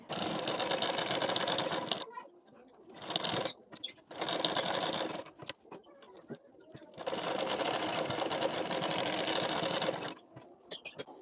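A sewing machine runs in several long bursts of rapid, steady stitching while seaming pieces of a collar-neck blouse, with brief quiet pauses and handling noises between runs.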